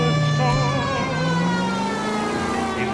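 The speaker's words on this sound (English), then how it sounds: "I've got my sirens on" A loud wailing police car siren in the video game L.A. Noire rises and falls in pitch, close and continuous, over a background engine hum.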